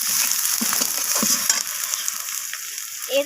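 Spices cooking down with onion and tomato in a pan, with steady sizzling and a few scraping stir strokes close by; no talking.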